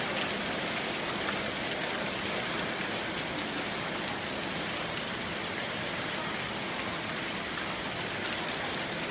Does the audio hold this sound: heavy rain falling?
yes